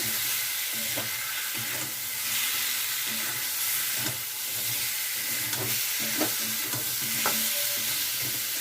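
Fried potatoes are stirred and sautéed with spice paste in a pan, a continuous sizzle overlaid with repeated scraping strokes of a spatula, close and steady.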